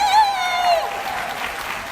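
An audience at a 2019 career conference claps for members in the back row, a steady burst of applause that begins under a fading voice and carries on alone through the rest.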